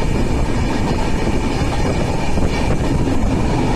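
A passenger train runs on rails, a loud continuous rumble with dense low clatter and faint wheel clicks, heard from on board with no talk.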